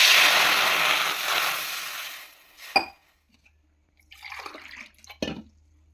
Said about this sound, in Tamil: அதில் வந்து 1 டம்ளருக்கு 3 டம்ளர் தண்ணி ஆட் பண்ணிக்கலாம்